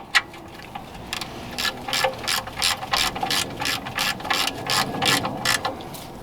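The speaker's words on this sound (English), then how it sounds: "once it's like that, close the drain plug" A ratchet wrench tightens the oil drain plug on a Toyota Corolla during an oil change. The pawl clicks in quick, close, steady bursts, pausing briefly between strokes, with no voice.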